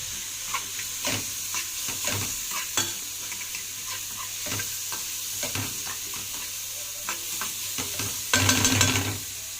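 Onion and minced garlic frying in a pan, a steady close sizzle broken by repeated spoon strokes and scrapes, swelling into a louder burst of frying near the end, with no voices.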